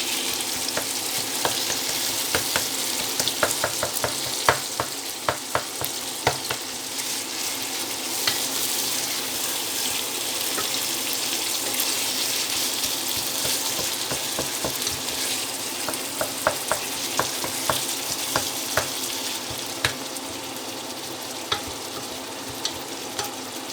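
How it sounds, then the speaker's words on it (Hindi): Minced keema frying in a pan, a steady loud sizzle broken by scraping stirring clicks throughout, with no talk. "और कीमे को अच्छी तरह भूनेंगे"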